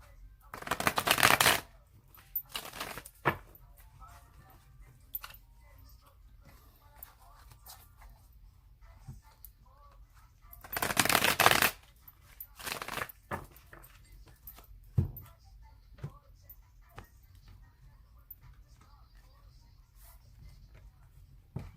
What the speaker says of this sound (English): So we're going to shuffle it 2 more times.